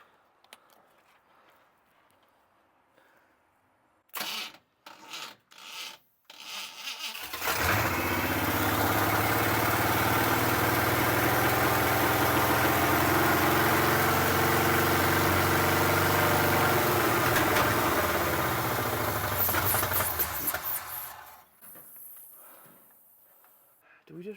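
K10 truck engine, running off a jump box battery, cranks over with a few short bursts, then catches and holds a loud steady idle for about thirteen seconds before cutting out, with voices before and after.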